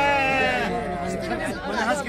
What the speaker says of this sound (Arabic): هذا يا جماعه معنا خروف قاني.